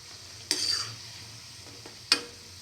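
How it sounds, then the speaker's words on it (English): Egg, fenugreek leaf and chickpea fritters frying in a pan, a soft steady sizzle broken by two sharp clinks of a utensil turning them. "Keep on frying by turning from side to side"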